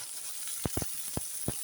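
Sliced onion, capsicum and curry leaves frying in hot oil in a pan, giving a steady close hiss broken by a few sharp spatters and clicks.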